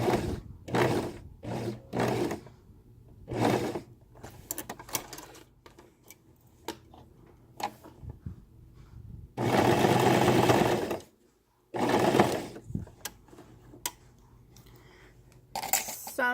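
A sewing machine top stitches a cloth pad in several separate bursts of rapid mechanical whirring, one longer run near the middle, with quiet pauses and small clicks between the runs.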